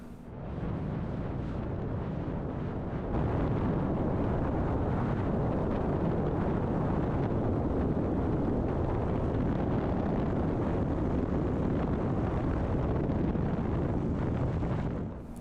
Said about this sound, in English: I rounded out a little too high, so this wasn't my best landing.